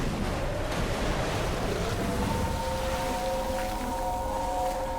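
The Metal Gear in Metal Gear Solid Delta: Snake Eater lets out a drawn-out, groaning mechanical roar. Its layered wavering tones rise out of a dense, rushing wash of noise and keep sustaining through the end.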